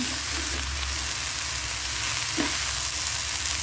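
Leafy greens with salt and turmeric fry in a pan with a steady, loud sizzle. The frying is close and continuous throughout, with faint stirring.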